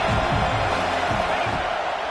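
A large crowd roars steadily throughout, a dense wall of cheering with some lower bursts mixed in, loud and continuous.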